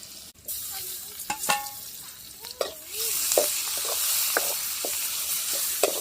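Food sizzles in hot oil, with a soft crackling hiss that grows steadier, broken by clinks and scrapes of a spoon stirring in the pan.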